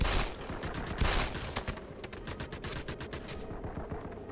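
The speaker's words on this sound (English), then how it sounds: "Let's try the pistol out." Rapid pistol fire in the sci-fi shooter game E.T. Armies, a dense run of sharp shots in quick succession, loud and close, with no talking.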